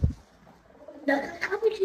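A Jacobin pigeon kept at home gives a brief, soft low coo near a voice, with a louder patch of mixed sound following it.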